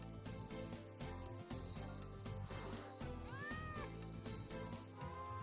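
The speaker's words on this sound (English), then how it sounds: "I thought this is the cat that always been to infirmary." A cat meows a couple of times in the video game Wuthering Waves, the sound rising and falling clearly over a layered game soundtrack.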